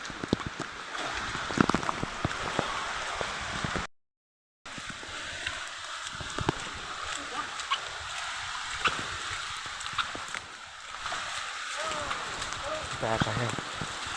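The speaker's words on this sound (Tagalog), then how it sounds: "Ito ay maulan, grabing ulan mga idol." Steady heavy rain hisses throughout with a dense, constant wash of drops, briefly cutting out, and a few faint voices underneath.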